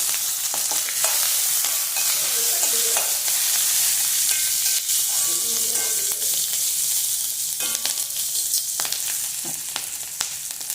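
Steady sizzling of chopped green chillies frying in hot oil, with occasional stirring scrapes and clinks, continuous and fairly loud throughout.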